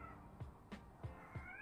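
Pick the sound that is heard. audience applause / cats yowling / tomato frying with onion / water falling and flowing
cats yowling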